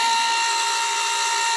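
A continuous, loud electric motor whine comes from a mash stirrer mixing a brew-in-a-bag mash, holding a steady tone with a clear pitched hum and no pauses.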